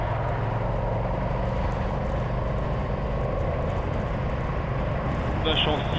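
Honda NT1100 motorcycle riding along, a steady broadband engine and wind roar holding constant throughout, with a brief higher tone near the end.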